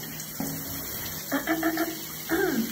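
Water from a shower runs steadily while hair is rinsed clean, starting at the scalp, with splashing surges as the stream hits the hair. The sound is close and continuous, and nobody talks.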